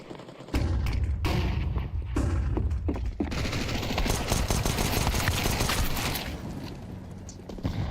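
A grenade goes off in Counter-Strike 2 amid a dense, loud burst of game gunfire and thuds, the blast and shooting rolling continuously for several seconds.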